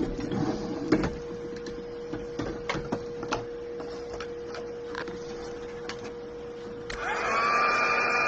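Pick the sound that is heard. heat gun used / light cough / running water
heat gun used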